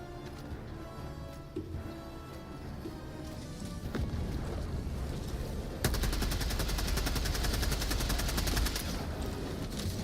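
Sustained automatic gunfire from a weapon emptying its whole magazine in the video game Helldivers 2, a loud, rapid, continuous burst that starts partway through and runs to the end, over an already busy battle din.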